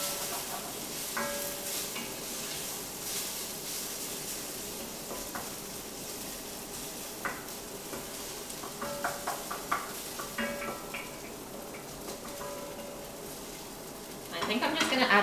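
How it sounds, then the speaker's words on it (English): Onions frying in a pot with rosemary and marrow fat, sizzling steadily while a utensil scrapes and stirs them, with soft clinks against the pot; a voice talks quietly in the background. "Give our onions another stir."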